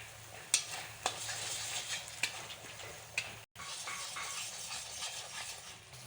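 Ground spices with salt, turmeric and chili powder stir-fried in a pan while cooking rohu fish curry with yogurt, giving a steady close sizzle broken by a few sharp scraping stirs and clinks, no talking.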